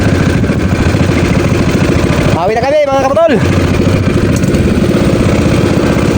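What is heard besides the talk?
boat engine running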